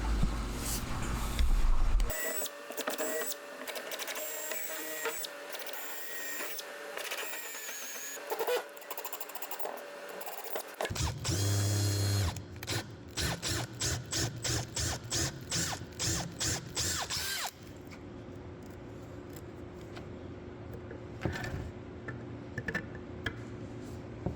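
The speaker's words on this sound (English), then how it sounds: "After getting a fit I like for the screws, I fasten the legs to the skirt of the table." Screws being driven to fasten wooden legs to the skirt of a handmade coffee table, with ratcheting clicks, mechanical whirring bursts and rapid repeated ticks over about twenty seconds, close up, no speech.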